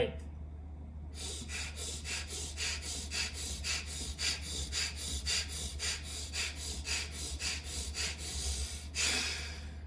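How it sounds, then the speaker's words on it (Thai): A rapid series of forceful nasal breaths in and out, about sixteen quick regular pumps like CPR compressions, part of a stress-relief breathing exercise, close and loud over a steady low hum. "ขั้นสุดท้ายคือการหายใจเข้าเร็วออกเร็ว"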